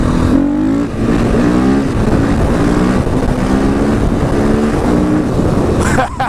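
KTM 500 EXC dirt bike engine during a stunt, loud and close, holding a steady buzzing drone with rising and falling revs throughout.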